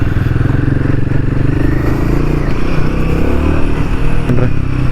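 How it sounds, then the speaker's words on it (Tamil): Royal Enfield Himalayan 450 motorcycle engine running steadily and loud up close, a dense low rumble with slight revving swells, no talk. "என் வண்டி நல்ல ரெவ்வியராக இருக்குது, டார்க்கும் நல்லா தெரியுது."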